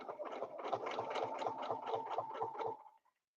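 A sewing machine stitches along a quilt border, a fast rhythmic mechanical chatter of regular pulses, fairly quiet and close, running steadily for nearly three seconds before it stops.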